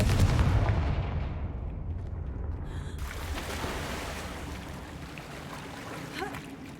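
Confringo blasting spell explosion in the video game Hogwarts Legacy, a loud booming impact that decays into a rumbling wash, followed by a second softer burst.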